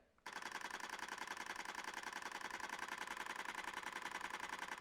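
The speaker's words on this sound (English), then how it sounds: "It's weird to hear a shutter after using the Z8 and the Z9 for so long." A Nikon Zf's mechanical shutter fires in a rapid continuous burst, a fast, even train of close clicks that starts abruptly after a brief quiet moment and runs steadily to the end.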